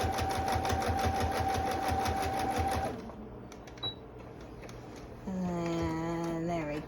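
A sewing machine stitching sweatshirt fabric into a doll arm, a fast steady mechanical whir with a pulsing needle rhythm for about three seconds, then stopping; a tonal sliding sound follows later.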